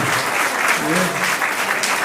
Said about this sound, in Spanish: Fuerte el aplauso y el reconocimiento también.